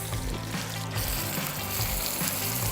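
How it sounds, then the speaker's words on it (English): A salmon fillet fries in hot oil while being basted with a spoon, giving a loud, close, continuous sizzle with faint stirring and spooning sounds and no talk. "Cook and baste the salmon, spooning the hot oil over the fillet every 20 seconds"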